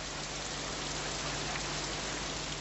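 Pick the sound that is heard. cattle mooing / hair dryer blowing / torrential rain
torrential rain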